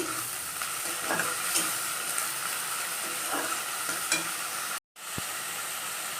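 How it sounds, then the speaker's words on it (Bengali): Spice paste being stir-fried in a pan for a chicken curry, a steady close sizzle with scraping stir strokes throughout, then a sudden brief cutoff near the end. "মশলাটা ভালো করে কষে নেব"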